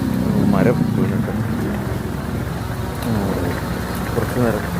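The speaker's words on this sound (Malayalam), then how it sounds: "പോകുന്ന വഴിക്ക് നമ്മുടെ ഒരു മഴ ഉണ്ടായിരുന്നു" Heavy rain pours steadily along a roadside, with low rumbling thunder rolling underneath and voices speaking intermittently over the downpour.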